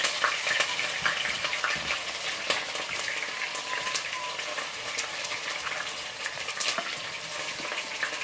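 Onions with red and yellow peppers sauté in a pan for rice, giving a steady, dense sizzle and crackle that runs unbroken throughout at moderate volume.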